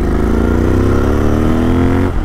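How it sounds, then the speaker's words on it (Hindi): A Royal Enfield Interceptor fitted with Hunter alloy wheels, pulling at about 80 km/h, its engine note loud, close and steady throughout with rising harmonic tones. "ये देखिए 80 की स्पीड यूँ कवर कर रही है बाइक यूँ"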